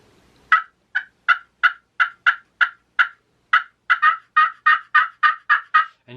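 A handheld turkey hunting call imitates a turkey with a rapid, rhythmic run of about seventeen sharp, yelping gobble notes. It is loud and close, with a brief pause partway through and silence around it.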